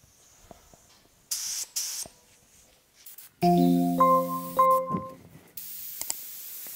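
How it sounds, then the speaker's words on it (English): A spray gun lays etching primer onto the center hood moulding of a 1950 Chevy truck, giving close, sharp hissing bursts separated by quiet gaps, with a brief tonal, whistling stretch in the middle and a final sustained hiss. "Got the molding sprayed."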